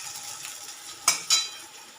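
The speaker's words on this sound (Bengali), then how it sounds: "এবার ডালটা ফোড়ন দিয়ে দেবো" Dal being tempered with spices in hot oil, a steady soft sizzle with two short sharp bursts of crackle close together near the end.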